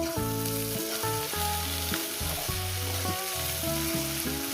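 Snake gourd with egg frying in ghee in a pan, a steady loud sizzle with stirring scrapes, under background music and no talking.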